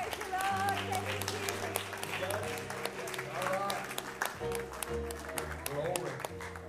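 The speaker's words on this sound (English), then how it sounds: "Clap your hands unto the Lord." A church congregation claps during an evangelist's service, a dense stretch of applause mixed with voices, cheering and scattered music tones at moderate loudness.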